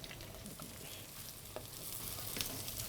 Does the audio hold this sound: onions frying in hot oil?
yes